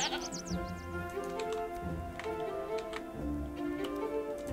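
Several goats bleat in quick succession over a soft ticking and background game sounds, the cries fairly faint and overlapping.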